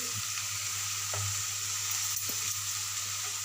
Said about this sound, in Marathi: आणि आता याला मस्त अशी परतवून घेते